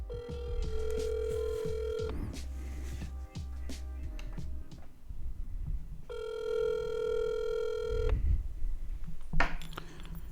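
Telephone ringing in two long electronic bursts with clicks and handling noises between them, close and loud, no voices over it.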